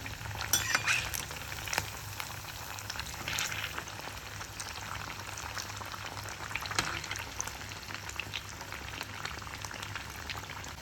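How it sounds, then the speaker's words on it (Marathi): Sabudana vada deep frying in hot oil over low to medium gas, with a dense, steady bubbling and crackling sizzle and occasional stirring clinks. "हे आपल्याला लो टू मीडियम गॅसवरच तळून घ्यायचे आहेत"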